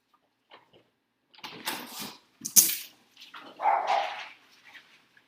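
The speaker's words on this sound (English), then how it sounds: "Sorry, crazy dogs on the loose." Dogs running loose bark in short, sharp bursts separated by brief pauses, fairly close and loud, with no talking over them.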